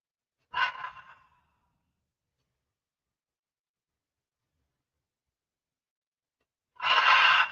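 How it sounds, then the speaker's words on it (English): Two audible exhalations through an open mouth during a yoga breathing exercise, close and breathy, a short one at the start and a longer one near the end, with silence between. "And now open the mouth and say, and breathe out."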